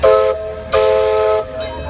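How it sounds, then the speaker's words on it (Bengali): A diesel train horn blasts loudly in long, steady tones, with a pause between each, heard close by. "আর ওই যে ট্রেনের কথা কইছিলাম"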